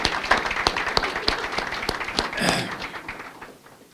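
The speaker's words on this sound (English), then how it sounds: "give her another round of applause" An audience at a public announcement event applauds, with sharp individual claps over a dense patter that peaks briefly, then fades out toward the end.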